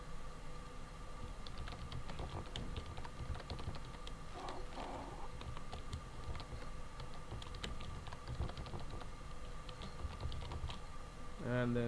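Typing on a computer keyboard while entering an address into a messaging app, rendered as light, irregular key clicks spread across a steady background hum, fairly soft and close.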